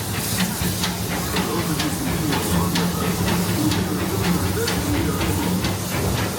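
Disneyland Railroad steam train slowing into New Orleans Square Station, with a steady broad hiss of steam over a low rumbling chug and faint rhythmic rail clicks, continuous and fairly loud throughout.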